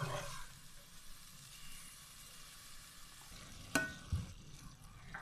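Vermicelli with salt, cardamom and raisins stirred in a pan gives a quiet, steady scraping sizzle, with a couple of brief clanks of the spoon against the pan near the end.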